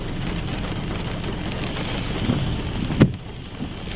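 Steady rain falls outdoors, a dense, even hiss of drops on surfaces, with one louder thump near the end.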